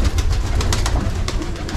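A male pigeon coos loudly and close by, a low throaty rumble interrupted by sharp clicks and rustling.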